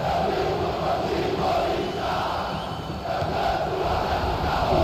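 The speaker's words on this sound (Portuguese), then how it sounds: "Agora é administrar o placar e o grito da torcida adversária." An opposing crowd of football fans chants and shouts in a PS2 football game, a loud massed roar with rhythmic rises and falls in the stadium.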